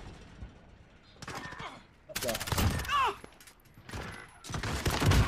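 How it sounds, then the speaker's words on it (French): Shotgun fire in the Call of Duty: Modern Warfare video game, several separate loud booming blasts with gaps between them, each with a ringing tail, mixed with groaning voices and other game noises. "Fusil à pompe."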